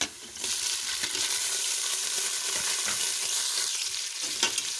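Steady, hissing sizzle of chicken frying in a hot pan, with occasional scraping stirs, close up and continuous without any voices.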